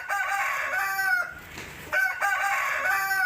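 Roosters crow repeatedly at an illegal cockfighting arena on Jalan Campagaya in Makassar, two long loud calls separated by a brief lull, with no talking.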